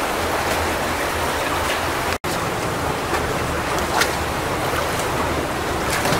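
Footsteps wade through about six inches of water on a smooth, level concrete floor, giving a continuous sloshing and splashing rush with periodic swishes from each stride.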